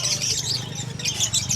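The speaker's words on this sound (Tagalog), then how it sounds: "Ganda ng mga ibon dito." Caged birds at a pet market chirp and tweet in quick, overlapping bursts, a busy high twittering over a low steady background hum.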